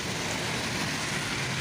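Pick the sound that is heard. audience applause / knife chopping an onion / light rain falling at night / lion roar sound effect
light rain falling at night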